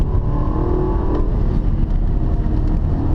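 A BMW X2 on a race track accelerating hard, its engine a steady loud drone from inside the cabin with a tone that shifts slightly as speed builds, with no talking.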